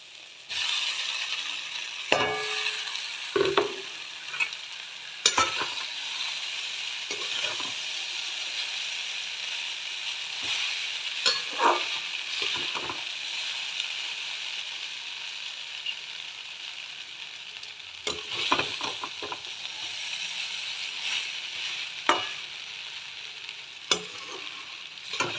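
Maggi noodles sizzle steadily in a hot pan while a utensil stirs and scrapes them, with irregular clicks and knocks against the pan over a continuous frying hiss, close and moderately loud.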